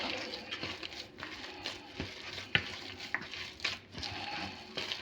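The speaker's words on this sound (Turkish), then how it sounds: "Çıkaralım. Ve tekrar yoğuralım." Hands kneading a lentil kofte (mercimek köftesi) mixture, soft squelching and pressing sounds in irregular squishes, quiet and close with small sharper taps now and then.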